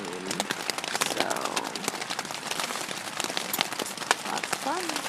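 Rain falls on a tent at a forest campsite, a dense, steady patter of drops drumming on the fabric close by, continuous for the whole stretch.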